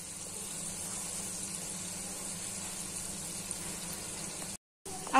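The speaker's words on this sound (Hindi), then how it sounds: "बनाना के टुकड़ों को हमें लो टू मीडियम फ्लेम पे ही पकाना है और दोनों साइड से अच्छे से हमें पकाना है" Raw banana pieces fry in oil in a kadhai over a low to medium flame, giving a steady, even crackle and hiss that runs continuously, with a brief gap near the end.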